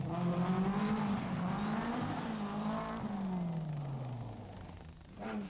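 Touring race cars, including a Toyota Celica, race at the 1995 Braine-le-Comte 12-hour event, engines droning and shifting in pitch as they pass, steady and moderately loud.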